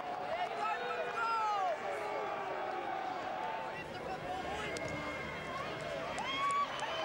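Rugby crowd at a Ranfurly Shield match between Southland Stags and North Otago in 2010, cheering steadily after a successful penalty kick, a broad roar running through the whole stretch under continuous commentary.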